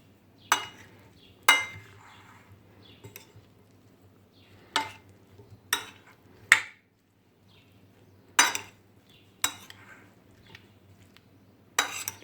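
Spoon stirring a strawberry and black mulberry crumble filling mixed with grated lemon zest and lemon juice in a bowl, giving sharp intermittent clinks and scrapes against the dish, about ten distinct knocks spaced irregularly, close and fairly quiet, no talking.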